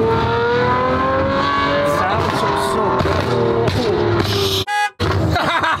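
A car converted to a manual gearbox accelerates hard through a loud exhaust. The engine note climbs in rising, raspy pulls close up and cuts out abruptly near the end.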